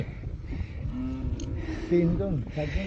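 Cattle in a large herd on a river island char low and moo, a few drawn-out calls rising over the shuffling of the herd, with people talking nearby.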